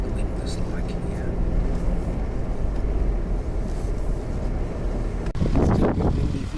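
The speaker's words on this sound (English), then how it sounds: "Still a bit windy here" Strong wind buffets the microphone continuously on the open Nullarbor Plain, a loud low rumble throughout, with a brief louder gust near the end.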